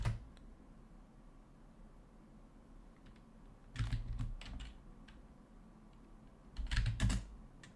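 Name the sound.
typing on a computer keyboard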